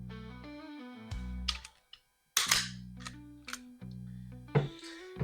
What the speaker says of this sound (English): in order to change your back straps, you do have to take off the slide